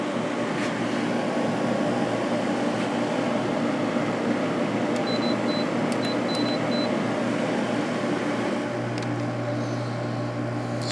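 LG 8,000 BTU and GE 8,100 BTU window air conditioners run together with a steady broadband whoosh and low hum, one with a Broad Ocean fan motor, the other a KB fan motor and Gree compressor; a few short electronic beeps sound partway through.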